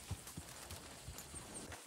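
A horse walks in Red Dead Redemption 2, its hooves making a slow, muffled clip-clop of a few soft steps under a faint rumble of ambient sound.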